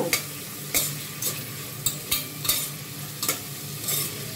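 Onions frying in a pan under a soft, constant sizzle, punctuated roughly every half second by sharp scraping strokes of a spatula as they are stirred, close up and with no voices.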